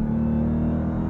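The engine of a 2023 Dodge Durango SRT Hellcat rumbles at a steady, deep idle, loud and close, with no voices over it.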